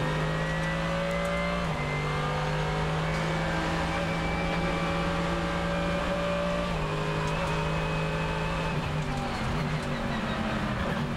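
A Mercedes race car at the 24h Nürburgring Nordschleife, Hatzenbach section, at a loud, sustained engine whine whose pitch steps down and climbs again through gear changes, with other race engines droning beneath.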